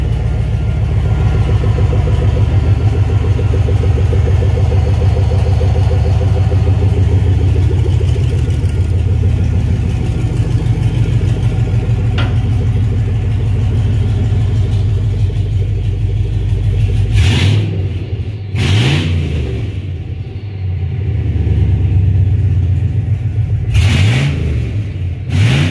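A GM LS 5.3 L V8 with 183,000 miles runs loudly on a pallet, idling steadily up close before several sharp revs climb and fall in quick bursts toward the end, with no voices.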